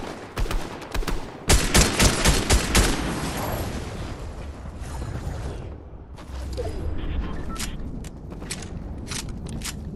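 Rapid bursts of gunfire in a shooter video game, sharp cracks clustered early and then scattered, sporadic shots of varying distance over a background din.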